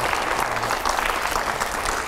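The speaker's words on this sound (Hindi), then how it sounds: "जोरदार तालियां हो जाए रैपिड फायर राउंड के लिए।" Loud, dense applause from a large audience at a studio debate set at a protest sit-in site, steady crowd clapping that holds throughout with no speech over it.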